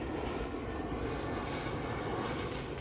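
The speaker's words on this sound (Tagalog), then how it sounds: "At may aeroplano dun sa itaas. Malapit tayo sa airport." Airplane flying overhead near an airport at a campsite, a steady, faint broadband engine roar with no distinct pulses, heard alone without talk.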